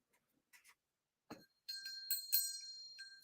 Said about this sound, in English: Oh, you love the sound of my bell?